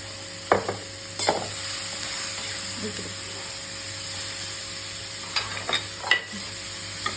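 Onion fries in a pan with a pinch of salt, a moderate steady sizzle broken by a few sharp spatula knocks and scrapes, with a faint background hum.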